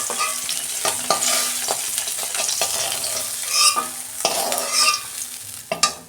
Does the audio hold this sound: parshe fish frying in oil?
yes